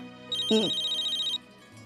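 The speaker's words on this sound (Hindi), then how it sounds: "अरे उसी का फोन होगा, उसी का फोन हो।" A telephone ringtone sounds indoors in a home during a Hindi TV drama scene: one steady, bright electronic ring that lasts about a second, with a brief low thud near its start, then stops and leaves quiet room tone.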